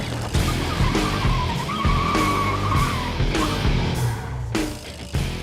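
A Dodge Charger skids through a Fast and Furious film stunt, with loud, sustained tire squeals and engine roar that rise and fall in several sweeping bursts over about five seconds, and no talk.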